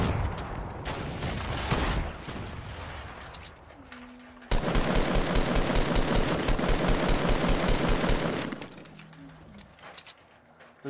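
Rapid automatic gunfire from the video game Fortnite, with sporadic shots at first and then a sustained, loud burst of continuous fire that cuts off sharply and gives way to quieter scattered shots.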